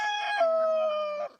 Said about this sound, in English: Thank you, rooster.